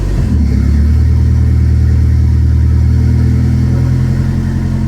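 A TBI-to-turbo converted Dodge Daytona idling as its transmission is put into drive, a loud, close, steady engine hum whose pitch drops and settles under load, with no one talking.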